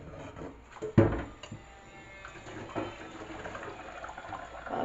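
Water running at a kitchen sink, a steady soft splash with a sharp clunk near the start and a few small knocks, fairly quiet and close, with no talking.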